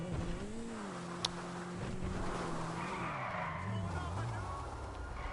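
Car tires squeal and skid continuously while drifting in Grand Theft Auto, with a steady engine drone underneath and the screech wavering in pitch throughout.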